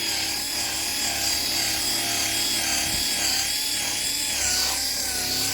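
A power buffer polishes scratches out of a sanded headlight on a 12-year-old Chevrolet Equinox with compound, giving a steady, loud motor whine with a constant grinding hiss that runs unbroken throughout, with no talking.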